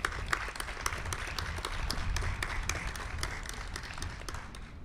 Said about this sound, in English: please, one more round of applause for Amy and for our color guard